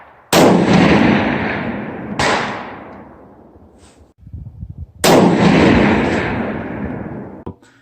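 A 7mm Rem Mag rifle fires during group testing at a range: two loud close gunshots a few seconds apart, each with a long rolling echo, and a rustle of handling in between.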